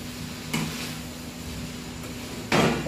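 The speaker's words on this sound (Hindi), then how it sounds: "अब चौमिन को अच्छे से हम चलाएंगे" Vegetable chowmein being stirred in a pan, with two short scraping strokes about two seconds apart over a quiet kitchen background and no talk.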